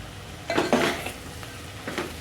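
A spatula scrapes and clinks against a pan while cut leftover roti pieces are tossed and mixed, a few short scraping strokes, fairly close and quiet, no talking.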